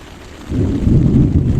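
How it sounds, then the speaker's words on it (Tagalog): Thunder rumbles up loud and low during a storm at a white-sand beach campsite in Aloleng, Agno, a steady deep roar swelling after a quieter start and holding close, with no voices. "kulog at kidlat"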